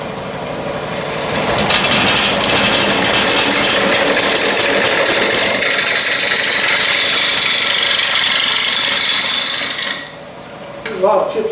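A wood lathe tool cuts down the bottom of a natural-edge bowl turned from a limb, a loud continuous rasping scrape that holds steady for about ten seconds, then cuts off into brief knocks.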